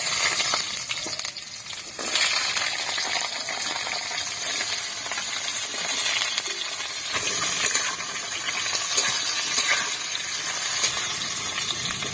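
Potatoes and pointed gourd hit hot oil tempered with cumin, giving a loud, continuous close-up sizzle and hiss that dips briefly at the start and then holds steady.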